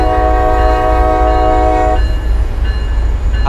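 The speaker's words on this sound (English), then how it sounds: "Hear the rumble of that engine" Diesel engine of an MBTA Boston commuter train in the Train Sim World 5 game, a steady low rumble with a loud sustained horn-like tone that cuts off after two seconds, then continuous engine drone alone.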